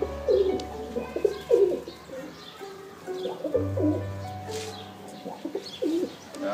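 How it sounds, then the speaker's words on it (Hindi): Pigeons coo in repeated soft, throaty bursts close by in a Sialkot village, overlapping one another with a low hum in the background. "ये कबूतर खोले हुए हैं।"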